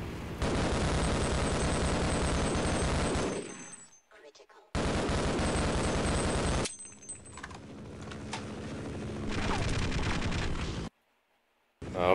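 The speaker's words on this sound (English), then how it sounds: "he's shooting at me now" Gunfire in the Half-Life video game: two long stretches of dense, loud rapid shooting separated by brief quiet gaps, followed by quieter scattered shots and rumble before the sound cuts out.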